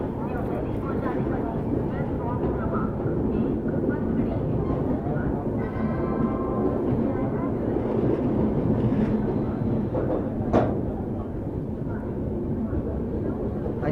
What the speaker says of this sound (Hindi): तो 5 मिनट रुकने के बाद अपनी ट्रेन का भाई डिपार्चर हो गया है कानपुर सेंट्रल रेलवे स्टेशन पे।